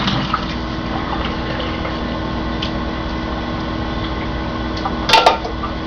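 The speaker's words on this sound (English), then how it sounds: "I'm going to take it over to my sink and just drain it" Hot water and cooked ground beef poured out into a kitchen sink: a steady, close rush of draining liquid runs continuously, ending with a brief clatter, and no one speaks.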